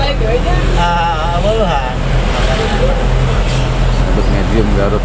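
An Isuzu Elf minibus engine idles and rumbles with a throaty aftermarket exhaust drone, steady and close, while people talk over it.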